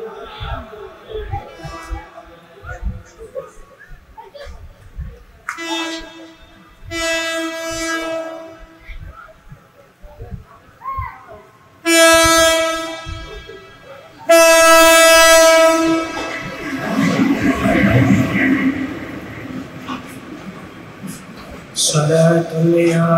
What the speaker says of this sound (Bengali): ট্রেন আসতেছে, ট্রেনের লাইন থেকে সরে যান, ট্রেন আসতেছে